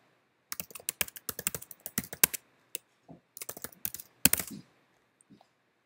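Quick bursts of keystrokes on a computer keyboard as login credentials are entered, close and fairly quiet, broken by short pauses and ending with a few isolated taps.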